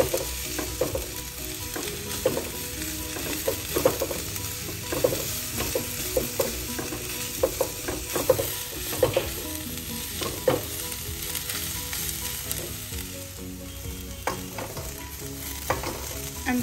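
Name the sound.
stirring the stuffing mixture in a pan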